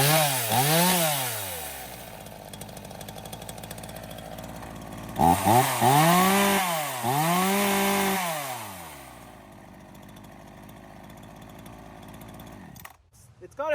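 A Ryobi chainsaw hot-started and revved: the small two-stroke engine rises and falls in repeated throttle blips, loud and close, then drops to idle and cuts off near the end.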